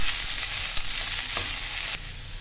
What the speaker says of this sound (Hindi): अब इसी में डाल देती हूँ मैं ये बीन्स, जो कि मैंने इस तरीके से टुकड़ों में काट लिए हैं